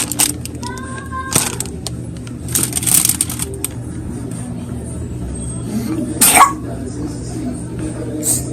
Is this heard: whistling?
no